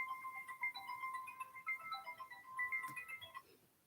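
Mobile phone ringtone ringing indoors, a repeating electronic melody of bright tones playing for several seconds at moderate level, alone without talk.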